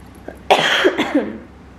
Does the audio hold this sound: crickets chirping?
no